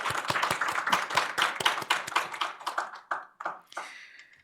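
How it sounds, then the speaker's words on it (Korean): A church congregation claps at a Sunday worship service on its first anniversary. It starts as a close, fairly sparse patter of hands with distinct individual claps, then thins out and stops after about four seconds. "박수!"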